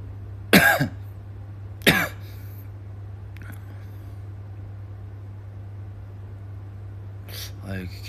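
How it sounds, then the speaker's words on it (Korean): Two sharp coughs close to the mic early on, then a softer throat-clearing rasp near the end, all over a steady low electrical hum with no talk. "이제 막 기침 나면 어떡해"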